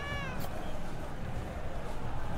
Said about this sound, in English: Oh, I love the cat that's just slowly... Come here. Come here, you naughty kitty.